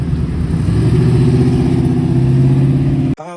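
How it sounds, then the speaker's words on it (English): Car engine at a Father's Day car show, running loud and steady with a deep low rumble and a slight rising rev throughout, cutting off abruptly near the end. "Hey, Dave brought his car out."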